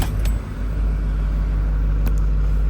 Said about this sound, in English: I'm gonna start the truck up real quick.